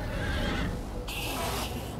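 A horse in the Minecraft Story Mode video game whinnies twice in quick succession, a loud, close, shrill neigh with a brief pause between calls and no talking over it.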